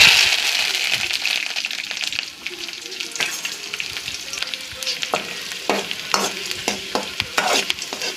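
Onions and curry leaves fry with mustard seeds in hot oil in a kadai for a potato fry, giving a close, steady sizzle broken by crackles and the clinks and scrapes of stirring.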